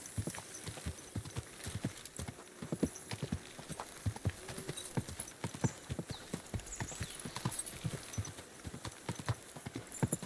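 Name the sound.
horse hooves clip-clopping, from video game Kingdom Come: Deliverance II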